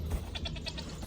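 Goats on a farm bleat in a short run of quick, quavering calls, faint and somewhat distant over a low background hum.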